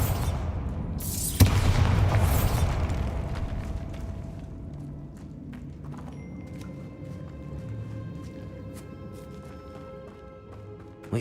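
A Bombarda spell explosion in a video game: one sharp, booming blast near the start, followed by a lingering low rumble and faint game ambience.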